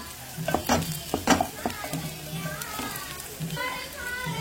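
Ground masala and green chillies sizzling in a hot pan while being stirred, crackling frying with scraping stir strokes, and voices, including children, talking nearby.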